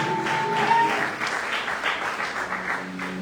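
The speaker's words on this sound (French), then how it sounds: "Est-ce qu'on peut acclamer très fort contre Jésus?" A church congregation applauds for Jesus with a steady wash of clapping, moderately loud and sustained, with faint singing or voices mixed in.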